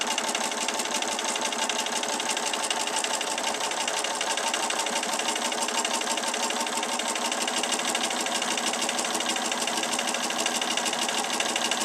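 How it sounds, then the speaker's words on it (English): Sewing machine stitching quilt pieces, a steady fast mechanical whir with even stitching rhythm running close and continuously throughout, alone without any talk. "You just sew right on down on each side of that line."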